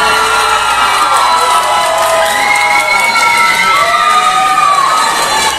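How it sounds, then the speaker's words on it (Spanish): An anime convention crowd cheers and applauds for an Adventure Time appearance, loud and continuous, with high shouts, whoops and children's voices riding over a dense roar close by. "Queremos pedirles, de algún modo, un aplauso para Hora de Aventura aquí al frente."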